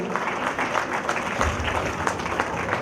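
A school annual day audience claps steadily in a dense, continuous burst of applause, moderately loud throughout.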